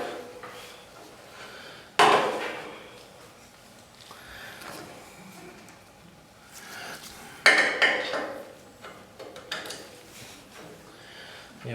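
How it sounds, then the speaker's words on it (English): A tool scrapes a small hole during installation of a tri-fuel generator regulator, with two sharp metallic scraping bursts about five seconds apart amid quieter clinks and handling. "I'm just going to scrape a little hole there."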